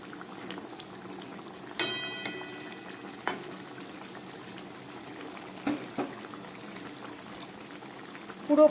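Tengra fish curry with potato simmering in a pan, a low continuous bubbling with a few sharp clinks and knocks of utensils, fairly quiet and steady throughout.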